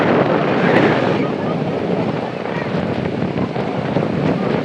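Stormy wind roars at a seashore with surf crashing, during a storm with rain; a loud, steady, buffeting rush of air and waves fills the whole stretch, with the microphone battered by gusts.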